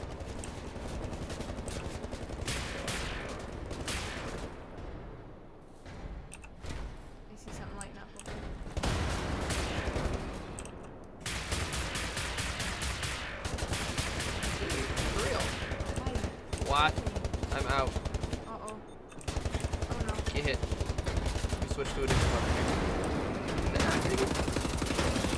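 Sustained gunfire in the video game Wolfenstein: The New Order, dense bursts of automatic fire and heavy blasts running almost continuously at close range, with brief pauses between volleys.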